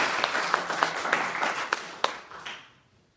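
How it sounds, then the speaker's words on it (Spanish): A church congregation applauds, with many hands clapping and a few sharp, distinct claps standing out. The applause fades away over the last second. "Vamos a dar un aplauso para darle el aplauso al Señor"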